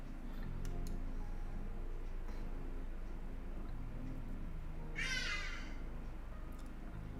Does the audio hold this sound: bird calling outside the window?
yes